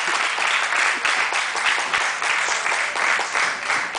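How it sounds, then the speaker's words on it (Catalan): Steady, dense applause from an audience for a poet at a Catalan book fair, continuous, close and even in loudness throughout without any voice. "Molt bé, un fort aplaudiment per ella"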